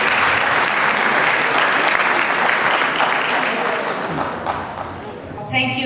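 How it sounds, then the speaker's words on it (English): An audience gives loud, sustained applause as a speaker is welcomed on stage, dense clapping that tapers slightly before a voice begins speaking at the very end. "Big round of applause,"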